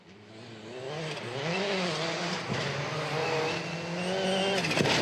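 A rally car attacks a gravel stage corner at round six of the 2017 Rally New Zealand, its engine revving hard and climbing through the gears in a loud, continuous snarl with no talk over it.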